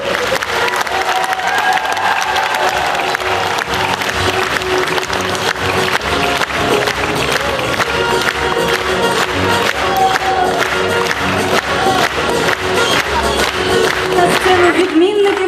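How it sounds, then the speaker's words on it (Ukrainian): Sustained applause from a large crowd at a school's 50th anniversary celebration fills the whole stretch, steady and loud, with a murmur of voices and occasional cheers mixed in. "оплески вчителям першої школи"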